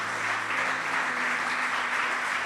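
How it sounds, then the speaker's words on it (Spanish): A church congregation applauds steadily, a dense close wash of clapping that holds even for a couple of seconds without any talking. "Denle un fuerte aplauso al Señor."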